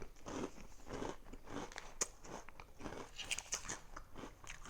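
Close crunching and biting of Mexican-made cereal from cereal cups, crisp irregular crackles repeating in quick bursts as someone chews, with no talking.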